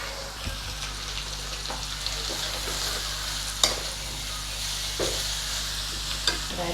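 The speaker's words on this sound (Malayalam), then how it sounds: "ഇനി ഇതിലേക്ക് നമ്മൾക്ക് ക്യാബേജ് അരിഞ്ഞത് ഇട്ട് കൊടുക്കാം." Finely chopped cabbage, about three-quarters of a kilo, sizzles steadily in a hot pan for a Kerala sadya-style thoran, with occasional scraping clicks as it is stirred.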